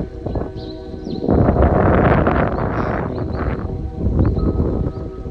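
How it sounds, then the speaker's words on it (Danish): Strong wind gusts on a mountain hike in Norway, a loud roaring rush buffeting the microphone that swells after the first second, eases, then surges again, with no talking. "Det blæser virkelig til."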